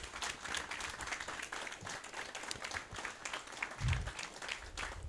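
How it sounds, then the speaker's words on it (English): Audience applause at an evening political event, a steady patter of many hands clapping at moderate distance, with a brief low thump partway through and no clear speech. "Let's give them all another round of applause."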